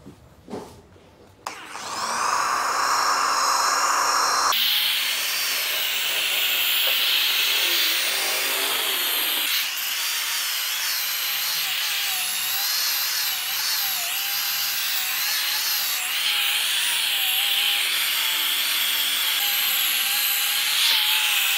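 A cheap JLD car polishing machine whirs loudly and steadily against the paintwork after a couple of clicks, its motor pitch wavering and shifting as pressure and speed change, with no talking.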